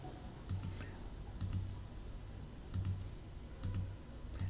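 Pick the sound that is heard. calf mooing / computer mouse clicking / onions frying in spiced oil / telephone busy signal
computer mouse clicking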